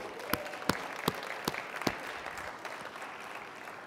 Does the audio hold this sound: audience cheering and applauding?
yes